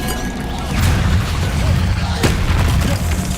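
Spell blasts from the Hogwarts Legacy video game, booming fire and explosion effects bursting repeatedly over a dense, loud rumbling game soundscape with sharp cracks near the middle and end.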